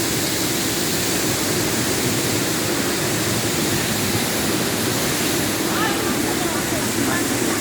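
Tagbibinta Falls in Maragusan, Davao de Oro, roars as a steady, loud, broadband rush of falling water, constant throughout, with faint voices barely showing beneath it.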